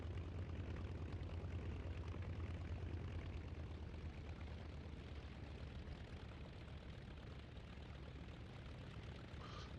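The engine of a La-7 fighter plane in a flight game idles at 700 RPM while taxiing, giving a faint, steady, low propeller drone with no talk.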